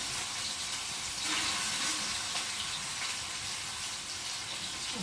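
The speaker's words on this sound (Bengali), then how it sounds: "তো চলো আমি এখন মাছটাকে ভেজে নিই।" Fish frying in oil on a flat tawa pan, a steady broadband sizzle that swells slightly mid-way and holds close and continuous throughout with no talking.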